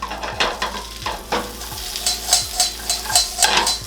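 Ginger sizzles and fries in butter in a pan, a steady close crackle broken by repeated stirring strokes at a quick, regular rhythm, with no talk.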